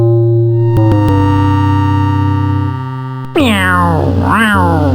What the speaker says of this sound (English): The cat struggles in vain inside the bag.